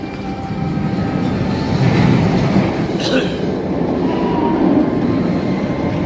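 The Montu roller coaster train at Busch Gardens Tampa roars past behind the listener, a heavy rumbling rush of wheels on track that swells and holds over several seconds, with a brief sharper burst midway.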